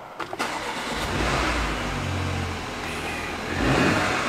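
A car with a small 2.0 engine cranks briefly, fires up and settles into a steady, fairly loud idle with a slight rev near the end, sounding a bit like a powerful hair dryer.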